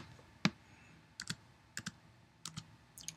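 Keys tapped on a computer keyboard while entering a colour code in photo-editing software: a few sparse, crisp clicks in small clusters, close and quiet, with no talking.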